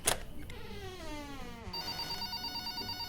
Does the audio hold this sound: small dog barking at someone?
no